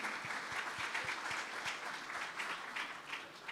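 A church audience at a Christmas Sunday school celebration claps together, continuous dense applause heard from a moderate distance and fairly faint, with no voices over it.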